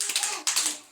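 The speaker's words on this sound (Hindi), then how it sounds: "वेरी गुड, 3 ताली बजाओ।" Three sharp claps from a group of children, evenly spaced within about a second, crisp and fairly close in an indoor classroom setting.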